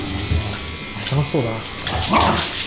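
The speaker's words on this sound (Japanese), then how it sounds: "下で犬がうるさい。" A dog downstairs whimpers and yips softly in the background while a groomer speaks nearby during dog grooming, with a steady electric buzz underneath.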